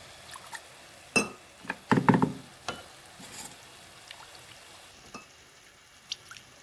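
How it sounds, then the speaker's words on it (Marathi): Stirring and scraping of a ground spice paste sautéing in a pan with soft sizzling, a few sharp clatters of a spoon against metal, then quieter scattered stirring. "फोडणीमध्ये सगळं वाटण घालून आपण छान असं परतून घेणार आहोत"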